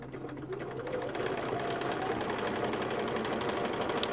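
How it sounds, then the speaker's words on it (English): A sewing machine stitches patchwork pieces in a chain with a continuous rapid whirring hum and fine needle rattle, steady and close, with no one talking. "back to the sewing machine, and now we're going to stitch the one on the other side"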